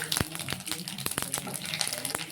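Mustard seeds popping and spluttering in hot oil in a home kitchen, sharp irregular crackles over a steady sizzle, close and fairly loud.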